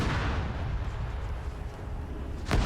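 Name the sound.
grenade explosions in Arma 3 video game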